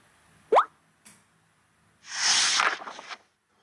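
A cartoon character dives into a pond: a quick rising plop-like sound effect, a brief soft tap, then a loud splash of water lasting about a second before dying away, set against near silence.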